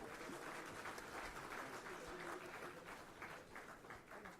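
Applause from a crowd at a government assistance ceremony for farmers, a dense, steady patter of many hands clapping throughout, somewhat distant and fairly quiet.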